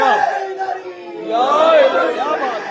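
A crowd at a religious celebration shouts slogans together with hands raised, a loud massed chorus of voices rising in swelling waves, close and reverberant.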